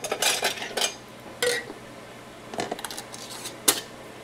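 Glass jars of syrup-packed apples set down into a home canner, producing a few sharp clinks and knocks of glass against metal with quieter rattling between them, close by.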